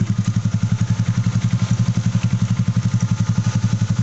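A Honda Click 150i scooter fitted with a Kawahara racing pipe exhaust putters at idle, giving a steady, loud, rapid thumping pulse up close with no talking.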